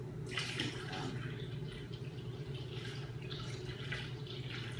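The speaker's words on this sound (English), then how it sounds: "Now I'm working on adding the water to bring it up to about 5 gallons." Water is poured into a fermenter of honey and cherry melomel to top it up toward five gallons, making a steady rushing, splashing stream.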